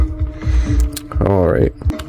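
Brief keyboard typing on a computer while setting up a Geometry Dash level, a few close clicks mixed with a voice talking and a rising tonal sound.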